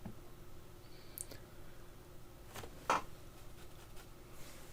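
A computer mouse gives a single faint, quick click against a low, steady room hum, with a tiny tick shortly before it.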